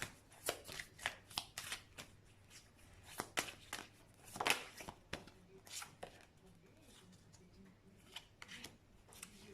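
Tarot cards are shuffled by hand close up in a quiet room, a quick series of crisp riffling flutters and soft slaps coming in uneven bursts, with a short louder flurry partway through.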